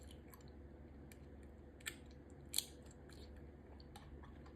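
Someone chewing a pickle close to the mic, with sporadic wet crunches and clicks, two sharper bites standing out against a quiet background.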